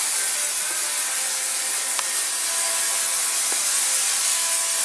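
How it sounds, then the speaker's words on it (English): Brake cleaner hisses in a steady continuous spray onto the brakes of a 2004 Honda CR-V, close and loud, with no talk over it. "now we're going to spray the brake cleaner"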